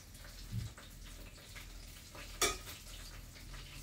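Shanghai-style spring rolls frying in a pan give a quiet steady sizzle, with a brief clatter of utensils partway through and no talk.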